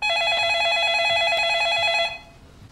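A telephone in the horror film The Ring (2002) rings with a loud, trilling electronic bell that buzzes steadily for about two seconds, then cuts off, leaving faint room noise behind.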